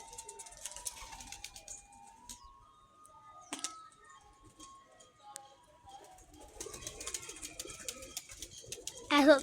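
Pigeons cooing at a Sialkot pigeon-trapping net setup, soft intermittent coos and bird calls over a quiet background, with faint clicks and a louder rustle near the end.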